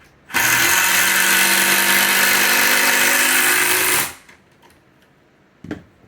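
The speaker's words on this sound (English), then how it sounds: "I like using the hammer drill because I'm using this soft pine wood" A hammer drill whirs steadily for almost four seconds, driving a screw into soft pine wood while a bookshelf is built, then winds down, leaving quiet with a small knock at the end.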